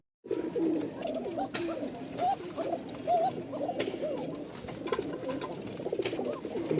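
Two pairs of Giribaz pigeons from Rajshahi cooing in a new enclosure, soft repeated throaty coos that overlap one another continuously, close by with light background noise and no talking.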